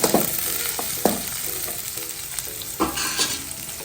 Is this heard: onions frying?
yes